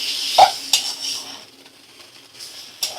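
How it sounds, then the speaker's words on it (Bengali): Boiled chow mein noodles stirred in a pan over a low flame, with a metal utensil clinking and scraping against the pan in light, irregular taps over a soft background hiss. "আমি নাড়াচাড়া করে নেব"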